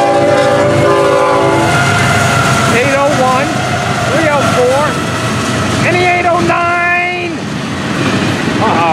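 A southbound FEC freight train of intermodal cars rumbles past close by with loud clattering wheels, while its multi-tone horn sounds several blasts in a row, the last one longer.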